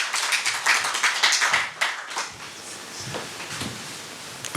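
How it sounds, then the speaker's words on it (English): Audience applause at a formal census results launch event, a burst of dense clapping that fades after a couple of seconds into scattered claps and room sound. "When I got a clap of hands before I came to the podium"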